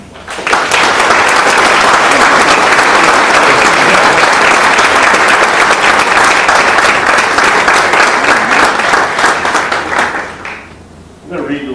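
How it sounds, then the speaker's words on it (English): A banquet audience applauds the seniors at a high school sports banquet, loud, dense sustained clapping lasting about ten seconds before tapering off, with crowd noise mixed in. "A big round of applause for the seniors."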